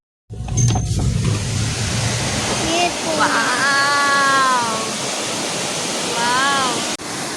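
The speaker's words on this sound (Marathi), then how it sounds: "पळयलो न्हू वॉटरफॉल" A monsoon waterfall near a village pours heavy flowing water in a loud, steady roar throughout, while people talk over it and a whistle-like tonal sound rises and falls in the middle.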